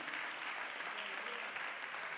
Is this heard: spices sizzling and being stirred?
no